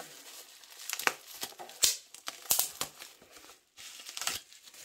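Plastic packaging crinkles and tears in bursts of sharp rustling while an art supply order is unboxed, the crackles close and irregular, with no talking.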